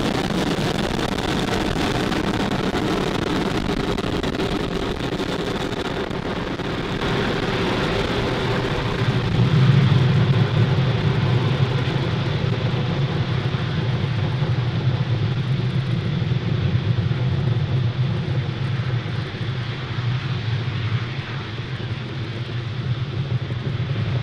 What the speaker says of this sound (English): Falcon 9 has successfully lifted off from pad